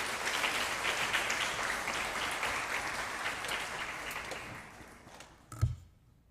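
A church congregation in Vancouver applauds warmly to welcome the senior pastor, a dense, even wash of clapping that tapers off near the end and ends with a single thump.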